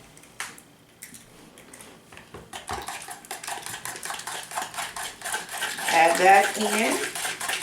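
Avocado, mayo and egg whipped vigorously in a bowl, a utensil clinking and scraping against the bowl in quick rhythmic strokes that grow louder and busier, with a short spoken remark early on.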